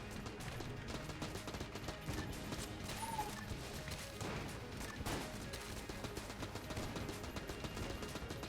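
Dense, continuous gunfire and explosions from the bullet-hell game Enter the Gungeon, rapid shots and blasts layered steadily throughout with no pauses.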